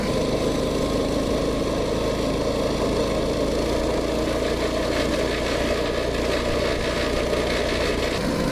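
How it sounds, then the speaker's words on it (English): A BT200X ice fishing mini bike engine held at full throttle, a steady, loud, buzzing small-engine drone that stays even from start to finish. "Give it full throttle. I feel the governor kicking in."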